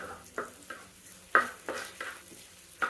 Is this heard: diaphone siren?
no